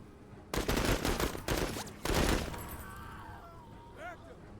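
Video game gunfire in a combat scene with Marines rattles out in three dense, loud bursts, then fades into a lingering electronic hum while voices talk quietly in the background.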